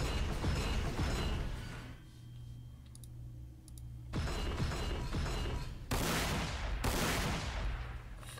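Gunfire from the Warhammer 40k: Sanctus Reach strategy game, Sons of Cadia campaign, comes in dense, crackling bursts and rattling volleys, loud and close, broken by a brief quieter gap.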